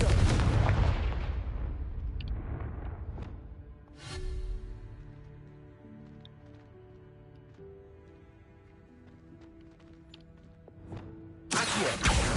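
The Confringo blasting spell explodes in Hogwarts Legacy with a loud, rumbling boom that fades slowly. A second burst follows, then a sharp loud blast near the end.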